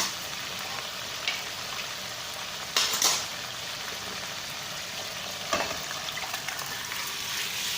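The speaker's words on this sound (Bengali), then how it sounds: "এখন আমি সম্পূর্ণ ডালটাকে ভেজে দেব।" Soybean dal frying over high gas flame in a pan, a steady bright sizzle with a few sharp stirring clatters, close and alone.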